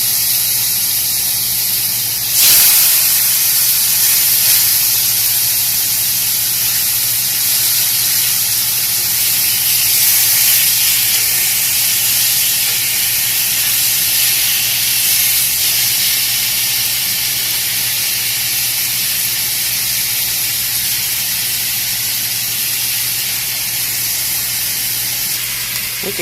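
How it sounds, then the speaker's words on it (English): Continuous loud hiss of blackened chicken sizzling in a hot pan, steady and close throughout with no talking. "Look at that chicken sizzle."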